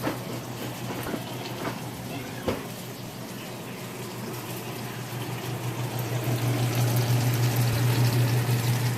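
Milk being poured into a cooking pot for macaroni and cheese, a steady liquid rush and hiss over a low hum, growing slightly fuller toward the end, with no talking.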